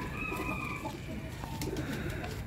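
Zeera Sharmeela pigeons coo softly, low gurgling calls close by over a steady background hum, with no talking.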